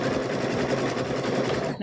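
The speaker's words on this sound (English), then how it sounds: "We're going to sew this one together here." A sewing machine stitches batik quilt squares together, a rapid, even mechanical chatter running close and continuous before stopping abruptly at the end.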